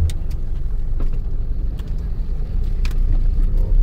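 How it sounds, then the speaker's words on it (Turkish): A bus carrying Hajj pilgrims through the back streets of Mecca drives with a steady, loud, low engine rumble and road noise throughout, and faint clicks and knocks appear now and then over the drone. "Haç'ta kullanılan bir otobüs."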